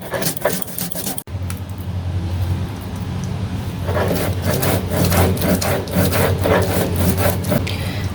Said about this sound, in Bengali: মশলাটা কিন্তু সুন্দরভাবে বাটতে হবে, একদম মিহি করে।